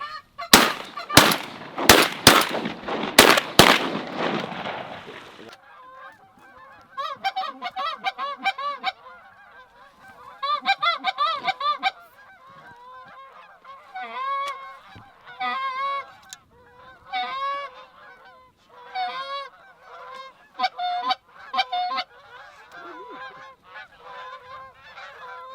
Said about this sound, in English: We have geese coming in